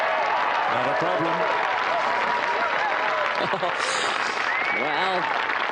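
A golf gallery at the final round of the 2013 ISPS Handa Australian Women's Open applauds and cheers, a continuous crowd roar with overlapping voices rising and falling.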